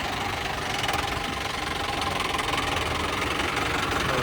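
A 2012 Mahindra Arjun 605 DI tractor engine idles with a steady, even rumble and knocking chug, heard close and alone for the whole stretch.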